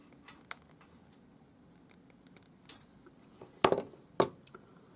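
Square wire coiled for a ring is cut with a jeweler's tool, giving a few sharp metallic clicks and snips close by, the loudest pair near the end, over a quiet background.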